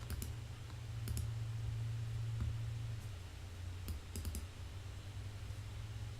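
A computer mouse gives a few sharp, faint clicks, some in quick pairs like double clicks, spaced over a low steady hum.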